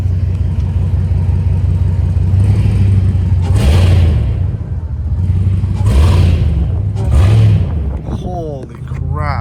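A catless, straight-piped Dodge Hellcat Redeye idles loud and close with a deep, uneven, lumpy rumble, punctuated by a few sharp throttle blips, while people talk over it.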